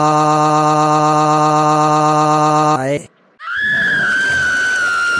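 A cartoon child from Caillou screams in a long, sustained, loud, shrill cry that breaks off abruptly, followed after a brief gap by a second high-pitched wail.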